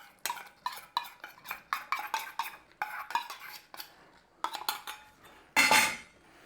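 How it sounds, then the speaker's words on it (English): A spoon stirs corn flour slurry into apple turnover filling in a pot, quick repeated scraping clinks against the metal, close and crisp, ending with a louder clatter. "So we're going to stir that in there"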